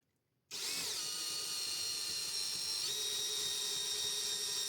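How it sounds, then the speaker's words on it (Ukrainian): A power driver spins a hook screw into a pine board, starting abruptly after a moment of silence and then whining steadily and loudly at close range, with a slight shift in pitch partway through. "Спочатку закручу шуруп із гаком меншого діаметра."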